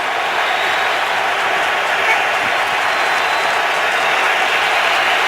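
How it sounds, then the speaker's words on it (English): Football stadium crowd at a Falcons–Giants NFL game roaring after a Giants touchdown, a dense, sustained wall of cheering and applause that stays loud and steady throughout. "Now the crowd is fired up."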